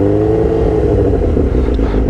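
A Suzuki motorcycle engine runs loud and close, a rough steady idle with low throbbing and a slight rise in revs.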